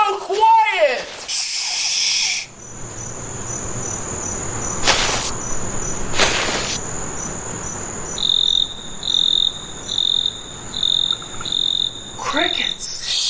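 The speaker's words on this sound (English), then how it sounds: "Crickets." Crickets chirp steadily at night, a continuous high trill with short repeated pulses in the second half, joined by brief rustles and a soft voice near the start.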